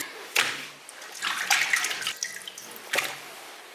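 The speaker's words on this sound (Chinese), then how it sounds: "拿回来我们把这个鱼给清洗干净就可以做了" Water splashes and runs in a sink while crucian carp are rinsed by hand in a home kitchen, giving a few separate bursts of sloshing with quieter gaps between them.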